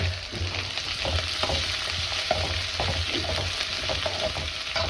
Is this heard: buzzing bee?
no